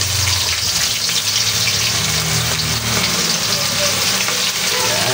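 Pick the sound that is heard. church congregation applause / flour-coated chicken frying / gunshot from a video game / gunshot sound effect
flour-coated chicken frying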